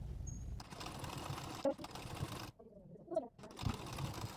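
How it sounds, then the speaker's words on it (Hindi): A sewing machine stitches along a blouse fitting line, its running rattle broken by short pauses, fairly faint and close, with quiet talk mixed in. "अब इसके ऊपर बस हमें सिलाई लगा देना है।"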